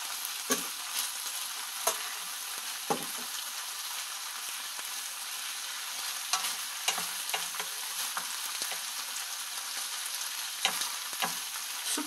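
Bean sprouts and chicken breast stir-fry in a hot pan, sizzling steadily, with a spatula scraping and tossing in irregular clicks and scrapes throughout, close and moderately loud.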